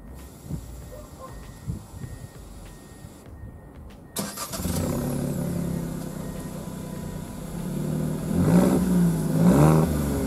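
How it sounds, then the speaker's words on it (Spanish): Fiat 500 Hybrid with a 70 hp 1.0 three-cylinder engine: a quiet cabin hum, then the engine fires up about four seconds in and settles into a steady on-road drone, with revs climbing toward the end. "ya estamos al volante del Fiat 500 Hybrid, un motor tricilíndrico, tres cilindros"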